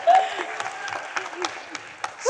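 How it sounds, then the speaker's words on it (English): Scattered applause from a conference audience at a technology awards main stage, sparse, separate claps at moderate distance mixed with a faint tonal sound and a brief voice. "Can we give her a round of applause,"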